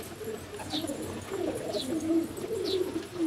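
Pigeons coo in low repeated bursts within a large collection of white bar pigeons kept in Pakistan, accompanied by a few brief higher chirps, steady and close with no talking.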